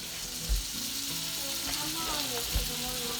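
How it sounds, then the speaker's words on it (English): Onions sauteing in butter in a pan, a constant close sizzle and crackle with occasional stirring thumps of the utensil. "we're gonna saute the onions, and that'll be our butter for our flour"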